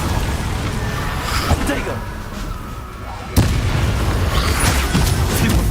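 Confringo fire spell blasts in the video game Hogwarts Legacy, with a loud booming burst at mid-clip over continuous game noise, and a voice speaking briefly.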